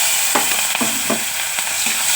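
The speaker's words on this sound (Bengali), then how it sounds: "এটাকে ভালো করে নেড়ে চেড়ে ভেজে নেবো।" Nigella seeds and slit chilli fry in hot oil left from frying ash gourd, making a loud, close, continuous sizzle. Several scraping stirs of a spatula cut through at irregular intervals, and no one speaks.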